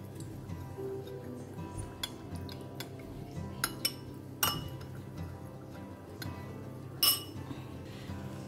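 A spoon mixes half a teaspoon of turmeric powder into a milk mixture, producing sparse, faint clinks against the container, with a couple of sharper taps standing out in an otherwise quiet kitchen.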